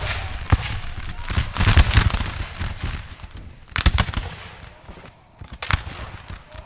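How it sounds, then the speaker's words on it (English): Musket volleys crackle and pop in ragged bursts during a Napoleon Total War multiplayer battle between Spanish and French lines, with dense distant firefights rising and falling, some louder clustered volleys standing out. "the Spanish anyway and the French are now still engaging their firefight"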